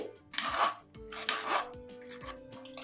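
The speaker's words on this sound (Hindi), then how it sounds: "चम्मच से चलाते हुए छान लेते हैं ताकि ये जो इसमें रेसे हैं ये अलग हो सके।" Mango pulp being pushed through a sieve with a spoon, giving rough scraping and rasping strokes in bursts, close and fairly quiet, with no talk.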